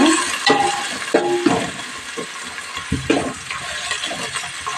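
Tomatoes and coriander stirred into mint rice in a hot pan, a spoon scraping and churning through the wet mixture in repeated strokes over a constant frying sizzle, close and fairly loud, no talk.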